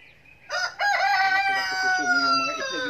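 A rooster, Brahma or Rhode Island Red, crows once on a farm, a loud, close, drawn-out call lasting over two seconds with a falling final note.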